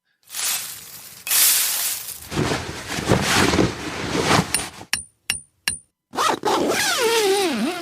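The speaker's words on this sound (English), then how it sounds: "we've got some gifts to unwrap" Gifts are unwrapped at a Christmas gathering: close crinkling and tearing of paper in bursts, then a few short bright clicks and a wavering tonal sound near the end.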